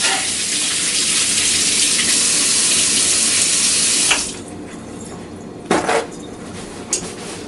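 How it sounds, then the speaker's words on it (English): Tap water runs steadily into a kitchen sink for hand washing while baking a peaches and cream crisp, a loud broadband gush that stops abruptly partway through, followed by a few faint clinks and splashes. "Wash my hands up."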